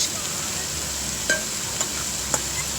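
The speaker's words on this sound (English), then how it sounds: "She is roasting the onion along with other spices" Onion roasting with garam masala and other spices in a pan over a charcoal fire on a beach, a soft continuous sizzle with a few light stirring scrapes and taps.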